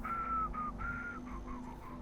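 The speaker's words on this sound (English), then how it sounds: "Please don't whistle to the microphone." A character in the video game Starfield whistles into a microphone, producing a clear, close sequence of short melodic whistled notes in a falling pattern over a low background hum.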